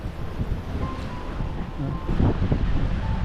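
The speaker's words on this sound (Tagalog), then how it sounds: "Ito yung hinahanap-hanap ko dito, yung hangin." Steady outdoor wind rushes across the microphone in a continuous broadband roar at a Philippine house spot used for lounging at night, with faint low rumbles and no clear speech.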